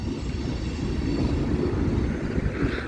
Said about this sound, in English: Pretty decent sized train for 2 engines.